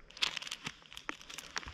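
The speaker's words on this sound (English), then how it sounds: "take it, put it in your hands and just crumple it all up a lot" A chemical hand warmer packet is crumpled and torn by hand outdoors in a snowstorm, giving close, irregular crinkling bursts and papery rustles that come and go.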